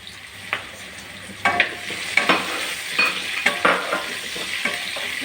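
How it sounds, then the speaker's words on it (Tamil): Garlic and salt sautéing in a pan for a kovakka mezhukkupuratti (ivy gourd stir-fry): a soft, constant sizzle under repeated sharp scraping strokes of a spoon stirring, close and fairly loud. "நல்லா வதக்கி விடலாம்."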